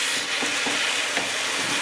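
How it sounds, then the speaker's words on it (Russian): Steady, dense sizzling of tomatoes frying in a pan, continuous and fairly loud throughout with faint stirring clicks, no voices. "Теперь жарим с помидорами."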